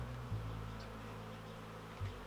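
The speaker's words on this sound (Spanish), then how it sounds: "Quitamos las abejas" Honey bees buzz on a beehive frame lifted during a spring hive inspection, a steady low drone, close but quiet, with no voices.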